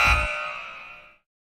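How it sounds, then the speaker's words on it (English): A single short buzzer blast sounds at a sports game, loud at the start and then decaying and ringing out within about a second, with nothing else around it. "The buzzer woke you up, The Kinsman."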